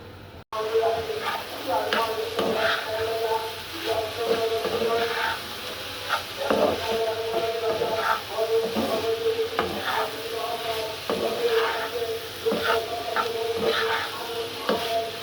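Onion stalks fry in a pan with a soft, continuous sizzle, punctuated by frequent scraping and tapping of a spatula stirring and turning them.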